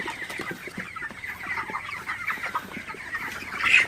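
Broiler chickens cluck steadily on a farm during hot, humid weather, a dense ongoing chorus of overlapping calls with a louder burst near the end.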